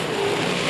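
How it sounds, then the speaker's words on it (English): A dirt track race car at Accord Speedway roars past as it hits the berm in a turn, a loud, sustained engine rush heard briefly without voices. "Oh, he hit the berm and almost set her sideways."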